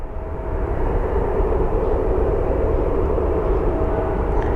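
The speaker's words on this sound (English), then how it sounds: "it looks like the 777 is moving" A Boeing 777 airliner moving at Phoenix Sky Harbor airport gives a loud, steady engine roar that swells in over the first second and then holds constant, with no voices.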